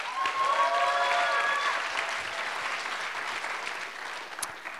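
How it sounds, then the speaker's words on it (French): Steady audience applause fills a hall at a student performance competition final, strongest at the start and then easing slightly, many hands clapping together at moderate distance. "On peut l'applaudir."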